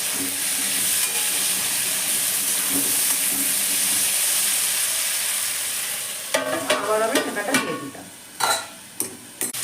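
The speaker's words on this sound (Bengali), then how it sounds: "ঢাকা খুলে নেড়ে দিচ্ছি এইভাবে" Pumpkin and mixed vegetables simmer with a steady hiss in an open pan, then a spoon scrapes and stirs them in several close, irregular strokes near the end.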